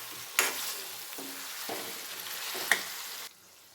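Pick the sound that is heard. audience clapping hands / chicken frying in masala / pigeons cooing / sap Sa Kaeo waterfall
chicken frying in masala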